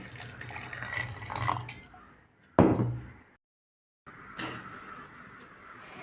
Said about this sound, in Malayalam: ഇനി ഇതിലേക്ക് ആവശ്യത്തിനുള്ള വെള്ളം ഒഴിച്ചു കൊടുക്കാം